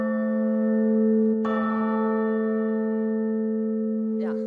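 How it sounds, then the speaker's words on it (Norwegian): Loud church bells ring on a Sunday, sustained tonal peals with a fresh strike partway through and another near the end, the overtones hanging in the air. "Det var litt høye kirkeklokker."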